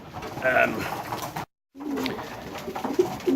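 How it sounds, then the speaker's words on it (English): Racing pigeons coo in a loft, soft low throaty calls rising here and there over a steady murmur of rustling and background noise, briefly cut by a moment of silence. "the young birds, they're between 2 weeks and 20 days old"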